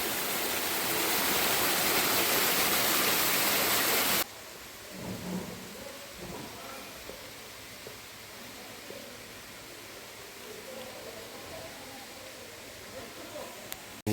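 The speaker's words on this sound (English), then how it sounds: "you can hear the sound of the waterfall" A waterfall flows beneath a resort restaurant and bridge at Deva Dhare, Sakleshpur. A loud, broad rush of water fills the first four seconds, then a quieter steady flow continues under people talking.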